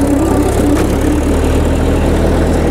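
A rebuilt Caterpillar D4-7U bulldozer engine runs steadily up close, a loud, even diesel chug with no break over the few seconds.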